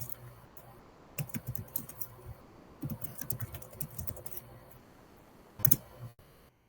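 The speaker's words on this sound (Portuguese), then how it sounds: "Vou digitar aqui no chat também." Computer keyboard typing into a chat window, with bursts of keystroke clicks in two stretches and a sharper clack near the end, fairly close and moderately loud against a quiet room.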